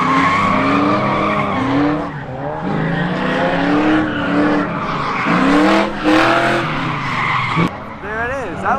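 A budget hatchback drifts in the rain, tires squealing and skidding in repeated wavering screeches over a revving engine, with excited voices talking over the action.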